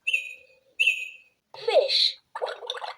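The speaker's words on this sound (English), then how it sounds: "Bird." A bird chirping effect from a LeapFrog talking picture book: two clear whistled tweets followed by a warbling, gurgling chirp and a fluttery trill, close and fairly loud.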